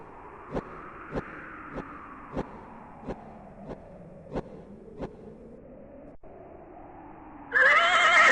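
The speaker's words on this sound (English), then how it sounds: "You slip the bridle over the horse's head. It whinnies its approval." A horse in the video game King's Quest II whinnies in a long wavering call over steady hoof clops, then a burst of bright noise cuts in at the end.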